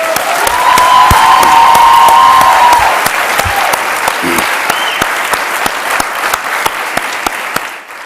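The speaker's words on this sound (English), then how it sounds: "give yourself another round of applause." A large corporate-event crowd at a Home Depot gathering for a talk by Cornel West bursts into loud, dense applause with a few cheers, holding strong before tapering off at the end.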